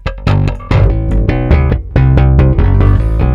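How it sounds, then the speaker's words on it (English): Gritty, bass-boosted Rickenbacker bass tone through a Sansamp VT bass DI, a run of loud, distorted plucked notes played alone without talk. "That's the sound of a Sansamp"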